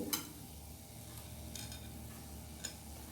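Garlic cloves, a cinnamon stick and cardamom pods frying in a pan for restaurant-style chicken Chettinad, giving a steady low sizzle with a few brief stirring scrapes and clicks.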